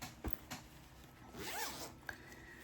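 A zipper pouch is unzipped in one quick rising zip, close and clear, preceded by a couple of soft fabric taps and followed by a light click.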